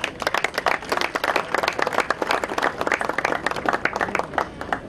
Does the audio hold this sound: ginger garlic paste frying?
no